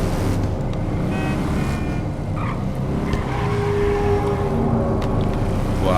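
Motorcycle ridden in GTA 5 Online, a sliding, drift-prone bike: a steady engine drone with tyre skid and squeal sounds running continuously at a loud, even level, with no talking.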